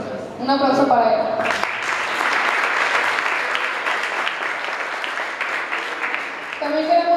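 An audience at a school event applauds its director, a sustained burst of clapping lasting several seconds, with someone speaking over a microphone just before and after it.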